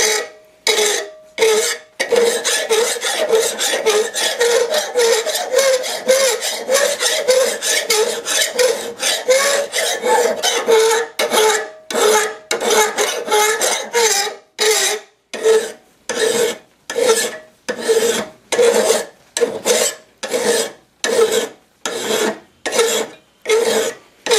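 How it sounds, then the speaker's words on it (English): Steady raspy strokes of a file drawn across a knife blade, continuous at first and then broken into a regular series of separate back-and-forth passes, close and loud with no talking. "Alrighty, so I'm just going to start filing."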